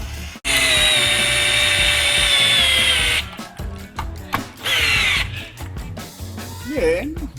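A cheap 1,000-peso electric drill runs in drill mode, whining loudly for a few seconds, then cutting in and out in shorter bursts while someone talks between them.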